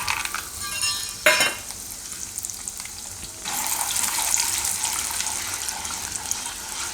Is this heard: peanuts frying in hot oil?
yes